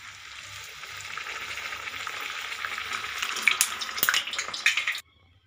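Masala puri, a spiced fried bread, fries in hot oil with a steady crackling sizzle that builds and grows busier, with sharper pops near the end before cutting off abruptly.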